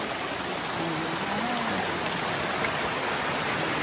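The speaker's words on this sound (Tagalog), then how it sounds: "Kasi running water lang po." A shallow stream runs steadily with continuous, close, even rushing water and no breaks or voices, along a short easy hiking trail.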